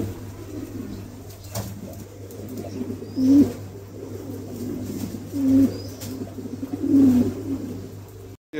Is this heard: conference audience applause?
no